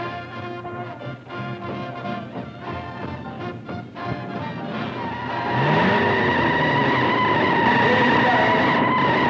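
Hot rod cars race in a 1956 film, including a T-Bird, with loud sustained engine roar and revving that swells into a steady high whine, tires squealing over a rumbling mix.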